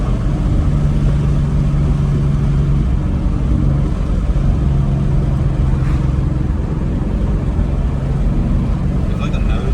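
Ford Mustang cruising along with a steady low engine drone and road noise filling the cabin, constant and fairly loud throughout, with people talking over it.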